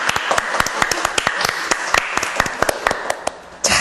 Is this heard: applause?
yes